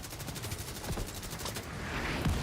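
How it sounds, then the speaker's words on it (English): Mortar fire in The Division 2, a dense, steady barrage of rapid booming shots rolling continuously, mid-distance and fairly loud, with no voices over it. "Watch those mortars."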